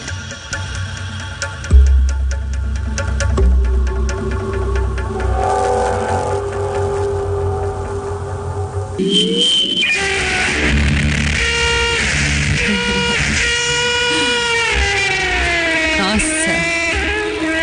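An excerpt from the Máquina de Sonho, an instrument built by a composer, plays loud and dense, with layered droning and shifting sustained tones, a rumbling low end and a sudden change in texture partway through, as a voice briefly exclaims.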